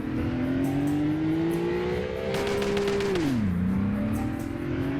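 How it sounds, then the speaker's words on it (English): Engine of a car in the Greenville video game revving continuously while attempting a burnout, pitch climbing steadily then dropping sharply and rising again, close and loud with no talk. "Let's see if we can do a burnout."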